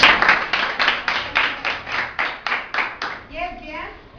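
Schoolchildren in a classroom clap their hands in unison, about a dozen evenly spaced claps close by, and a voice follows right after.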